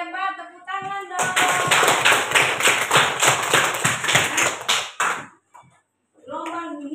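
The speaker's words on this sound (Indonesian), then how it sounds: "Hebat, tepuk tangan dong." Students in a classroom break into a burst of rapid hand clapping lasting about four seconds, loud and close, with a teacher's voice speaking briefly before and after.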